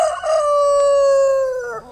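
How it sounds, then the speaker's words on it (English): A rooster crows once, loud and close, with one long drawn-out call that tails off at the end, and no other sound around it. "I got to feed these chickens"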